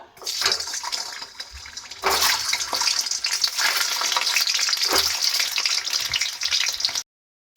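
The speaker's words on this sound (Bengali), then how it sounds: "পেঁয়াজ ভাজার তেলের মধ্যে আমি দিয়ে দিচ্ছি ডিমগুলো" Eggs sizzle loudly in hot onion-frying oil, a crackling hiss that swells after a brief quieter start and then stops abruptly.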